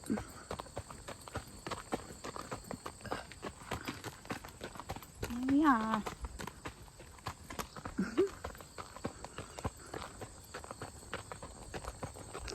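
A horse's hooves clop along in a steady walking rhythm during an evening ride, with brief talking and other outdoor noises partway through.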